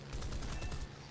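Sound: aircraft gunfire in video game War Thunder

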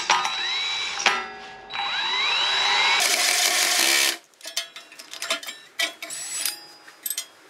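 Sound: drilling a hole in a cargo trailer with a drill

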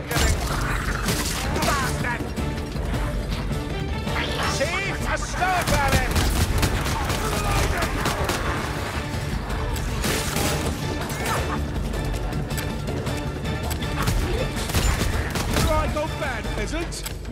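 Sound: gunfire in Warhammer: Vermintide video game

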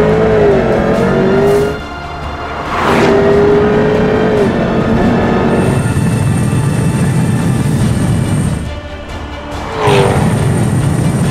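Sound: Jaguar F-TYPE V8 accelerating at high speed on a bumpy road

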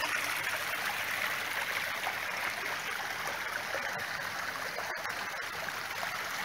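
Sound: water flowing from a spring at a restaurant

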